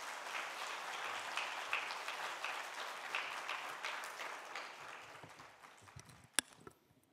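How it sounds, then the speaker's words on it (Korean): Congregation applause during a Sunday evening church service: many hands clapping in a dense, moderate wash that gradually thins and fades out, ending in a few scattered final claps. "하나님께 감사 박수 드리겠습니다."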